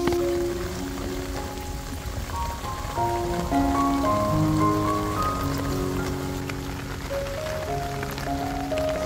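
Steady rain patters as a soft, constant hiss, with gentle melodic tones playing underneath throughout.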